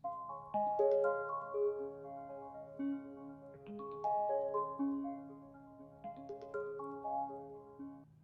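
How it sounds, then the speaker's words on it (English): The Envision app's waiting sound: a soft, gentle melodic tone pattern looping seamlessly in repeating phrases, quiet and calm with no voices. "the Envision waiting sound that you get whenever you maybe describe a scene"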